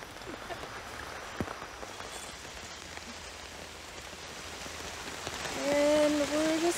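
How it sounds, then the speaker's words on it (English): Steady rain falling outdoors, a continuous soft hiss of drops pattering on surfaces that swells slightly louder toward the end, joined briefly by a faint whistling tone. "Speak of the devil, it's raining."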